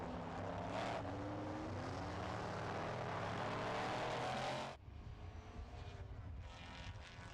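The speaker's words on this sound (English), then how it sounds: "Yes, a Cobra at full chat" Shelby Cobra engine at full throttle during a classic race at Estoril, a loud snarling roar that holds steady then drops abruptly as the car passes, leaving fainter engine noise behind.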